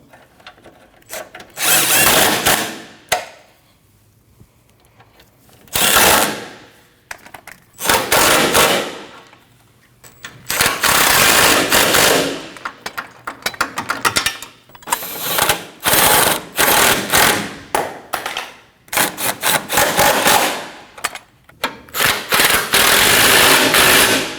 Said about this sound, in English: Now you want to tighten your bolts down